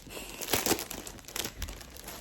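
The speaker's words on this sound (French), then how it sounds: "on va le déballer ensemble" Close, crinkly rustling and tearing of packaging being unwrapped from a The Devil Wears Prada book, in a few quick bursts.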